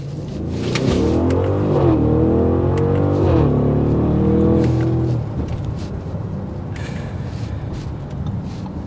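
A 2023 Audi SQ7 SUV engine revs hard as it accelerates, rising in pitch through a downshift, then settles into a quieter steady drone.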